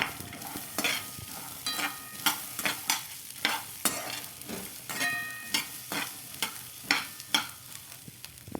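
Green chillies and garlic frying in a pan, a low sizzle under repeated sharp scrapes of a spoon stirring, roughly one stroke per second, close and clear with no talking.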